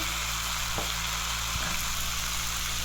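Eggplant with potato and radish fries in a pan with a little turmeric for Bengali shukto, giving a steady, close broadband sizzle that runs unbroken, with a couple of faint knocks of a utensil against the pan.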